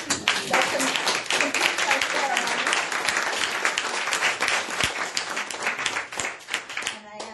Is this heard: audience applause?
yes